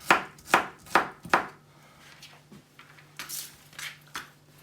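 Four sharp knife chops through onions on a board in quick succession, followed by a few softer, scattered cuts and scraping sounds.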